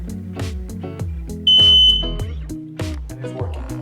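A newly installed smoke detector's test button triggers a shrill, sustained electronic beep lasting under a second, cutting through louder background music.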